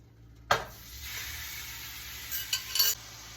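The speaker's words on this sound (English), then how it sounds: "we're gonna throw this meat in the skillet" Meat hits hot oil in a skillet with a sudden loud burst of sizzling that settles into a steady close frying hiss, broken near the end by a few quick stirring scrapes and clinks.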